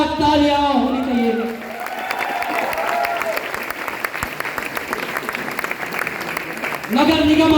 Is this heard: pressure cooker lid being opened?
no